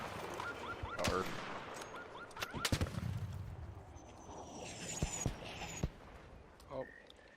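Gunfire in a Call of Duty Modern Warfare 3 ranked match: a few sharp, loud shots and short bursts over a busy game background, with players talking between them.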